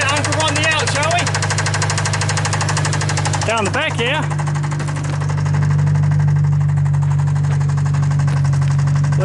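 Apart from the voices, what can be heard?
car engine knocking while idling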